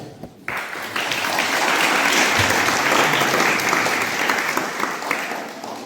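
An audience at a Sunday School Diwas gathering breaks into loud, sustained applause that starts abruptly and holds steady for several seconds, with scattered individual claps standing out.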